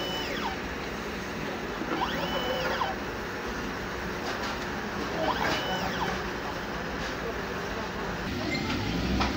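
A 30 cm DTF printer runs its print-head cleaning cycle, a steady mechanical whir with repeated rising and falling pump or carriage sweeps, continuous and moderately loud.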